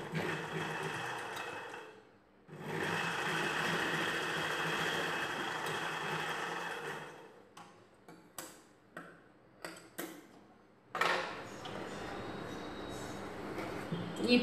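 A sewing machine stitches a princess-cut blouse in long runs of rapid, steady whirring, broken by a pause and a series of short ticking bursts before running again, close and moderately loud.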